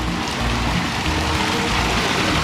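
A constant, close wash of water spilling from troughs in Sapadere Canyon, Turkey: even, hissing flow with no pauses and no voices.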